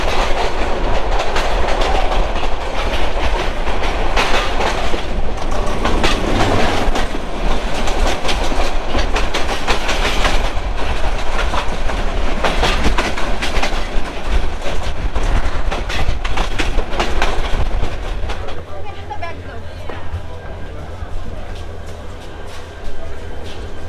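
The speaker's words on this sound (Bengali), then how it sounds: "ফাইনালি ঠিক 11টা 25 মিনিটে, অর্থাৎ 10 মিনিট লেটে আমাদের ট্রেন ছেড়ে দিয়েছে" Jayantika Express train running just after leaving Kamalapur station in Dhaka, heard from on board as a loud continuous rumble with rhythmic clickety-clack of wheels on rail joints, easing slightly toward the end.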